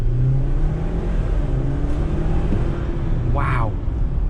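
A 2021 Jeep Wrangler 80th Anniversary Edition engine roars as it accelerates hard, a loud sustained rev building over road noise, with a brief rising whine near the end.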